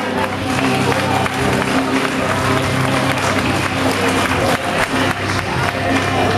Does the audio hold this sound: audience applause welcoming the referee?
yes